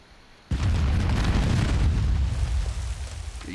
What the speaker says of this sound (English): The bombs are going off right now.